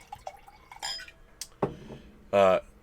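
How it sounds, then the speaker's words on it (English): Wine is poured from a bottle into a glass, giving a few close, short gurgling glugs spaced apart and a louder, longer glug burst near the end, with faint clinks in a quiet room. "I love the glug glug noise wine makes as it comes out of the bottle."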